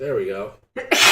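A single sharp sneeze during an MTG Arena gaming session bursts out right after a brief spoken phrase, close and loud.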